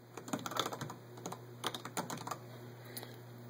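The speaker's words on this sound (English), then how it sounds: "Okay, so I have to type that in, hit submit, and save my signature." Quick bursts of keystrokes on a computer keyboard, clustered taps with short pauses between, close and fairly quiet over a faint steady hum.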